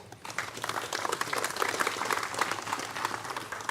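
An audience at a boating and fishing seminar applauding to welcome a speaker, with dense, steady clapping from a fairly large indoor crowd lasting a few seconds.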